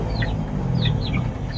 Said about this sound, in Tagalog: Marami kayong manok dito?